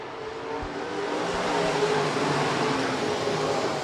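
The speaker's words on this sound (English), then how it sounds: "Green flag racing." B-Modified race cars circle Rapid Speedway under green flag racing, a continuous, fairly loud engine roar with a broad rushing tone that swells slightly and holds steady, heard from trackside.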